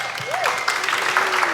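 Applause from an audience at a talk, a steady wash of many hands clapping throughout the short stretch, with a voice speaking over it.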